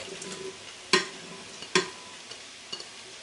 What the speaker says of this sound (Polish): I dokładnie mieszam.